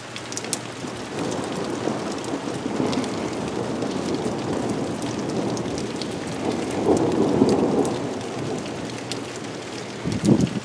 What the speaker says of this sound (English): let's listen to that thunder.